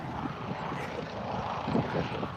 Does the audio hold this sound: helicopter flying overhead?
yes